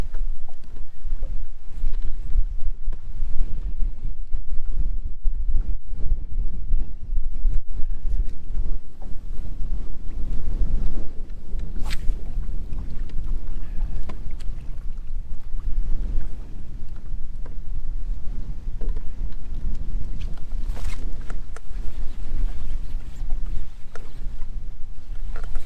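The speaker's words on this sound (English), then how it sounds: "the wind." Heavy wind buffets a boat on Lake Lanier, a steady loud roar of gusts and microphone rumble with water sloshing against the hull throughout.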